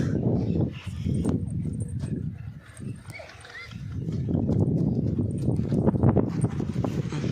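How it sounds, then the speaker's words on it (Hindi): A powerful pure Sindhi breed stallion clip-clops with steady hoof beats on the ground, heard under someone talking across most of the clip. "प्योर सिंधी नस्ल का घोड़ा है, पावरफुल घोड़ा है दोस्तों।"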